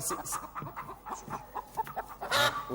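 A hen clucks in short, busy bursts indoors while watching a television, with a louder squawking burst near the end and no talking during the sound.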